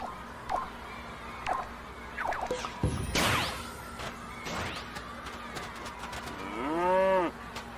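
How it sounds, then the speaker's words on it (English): Elderflower the cow from LittleBigPlanet 2 moos loudly and clearly near the end, a long drawn-out low call, after scattered game sound effects including whooshes and a crash. "You could emit Elderflower the cow,"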